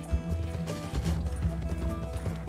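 Horse hooves drumming in a quick gallop in Red Dead Redemption 2, with a steady clip-clop rhythm across the terrain over a dense bed of game ambience and low rumble.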